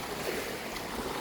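Sea waves at Boracay beach on a clear afternoon, a steady broadband wash of surf with wind, moderately loud and continuous, no voices.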